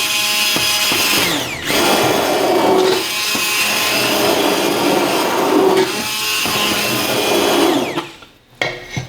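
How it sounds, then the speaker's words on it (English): Kitchen machine whisking a thickening Coca-Cola rib sauce, a loud, close motor whir with churning, sloshing texture in repeated bursts, stopping near the end with a few clunks. "I'm going to whisk it a little bit more."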